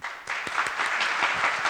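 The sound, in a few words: added applause effect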